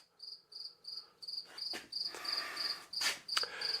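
A cricket chirps in steady, evenly spaced pulses close by, with rustling and clatter from nearby movement building up beneath the chirps.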